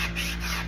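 A wooden serving tray is wet-sanded, with a close, continuous abrasive rubbing hiss lasting under a second at an even level.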